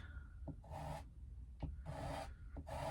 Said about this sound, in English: This little squeegee is much better for getting flat marks.